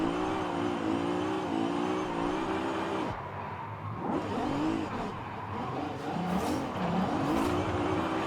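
A drift car in Forza Horizon 5, apparently still running an original 350 engine, revs and wails through slides, with fluctuating engine pitch and brief tire squeals at moderate, steady loudness.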